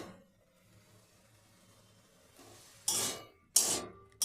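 Potatoes with spices fry in a pan with a soft, steady sizzle, then a utensil scrapes and knocks against the pan in two loud bursts as the mixture is stirred.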